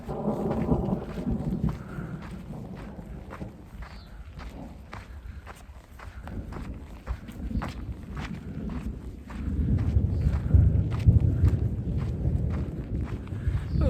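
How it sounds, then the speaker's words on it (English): Low, rolling rumble of distant summer thunder swelling and fading, with steady rain or wind noise and occasional footstep-like thumps throughout. "Ooh, that's some good thunder."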